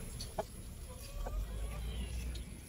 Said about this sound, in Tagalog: Ang lalaking manok yan ayan mga kababayan.